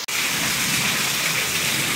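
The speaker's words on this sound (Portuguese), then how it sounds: "olha que maravilha de chuva aqui em Conceição nesse momento. Muita chuva mesmo" Heavy rain pours steadily over the rice-growing town of Conceição in Brazil's Northeast, a dense, loud, continuous hiss with no talking.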